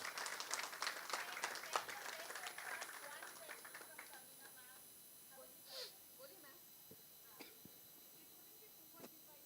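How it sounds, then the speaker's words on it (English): A crowd claps for a guest at a Hindi trailer launch event, the dense applause loud at first and then thinning into scattered claps that fade out over several seconds. "Can we have a humongous round of applause"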